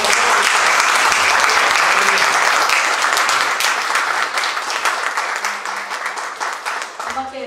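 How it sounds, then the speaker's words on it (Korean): Church congregation applauding together, a dense, loud burst of clapping that fills the room, then thins slightly toward the end as a few voices begin under it. "우리 하나님께 영광의 박수 한번"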